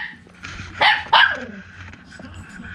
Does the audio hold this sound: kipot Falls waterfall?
no